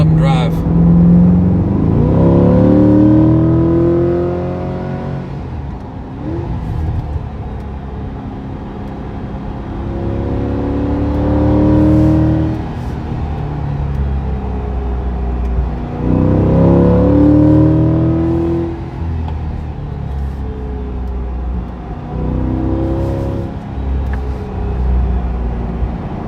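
A car engine revs and eases off in repeated rising and falling surges while driving twisty roads, loud and close from inside the cabin, with a voice talking over parts of it.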